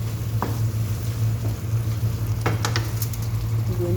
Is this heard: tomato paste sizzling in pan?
yes